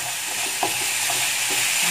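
Young corn and meatballs fry in a pan with oyster sauce, sweet soy and tomato sauce, giving a steady hiss with a few soft scrapes of stirring and no voices.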